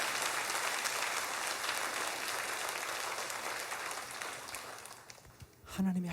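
A church congregation applauds during a regional prayer meeting, a dense steady clapping that carries on for several seconds before thinning out, and a voice joins at the end.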